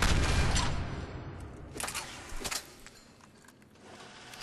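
Saber rifle shots in Mass Effect 3 ring out as a few heavy, widely spaced blasts, loud at first and then thinner, with faint clatter and ambient hum between them.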